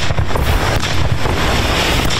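Cannon fire rolls through an open range during a Yi women's militia drill in Yunnan. The heavy, loud booms blur into dense, overlapping rumbles with no pauses.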